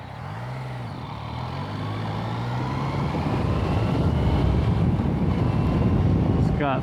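Bus passing close beside a motorcycle in town traffic, a rumbling engine swell that grows louder through the pass, mixed with wind buffeting, and a voice speaking briefly at the start.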